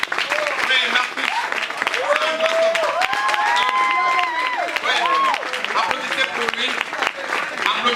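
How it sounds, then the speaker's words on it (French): Loud, dense applause and ovation from a comedy festival audience, sustained steadily throughout with crowd voices and cheering mixed in. "Je veux parler sous vos ovations s'il vous plaît."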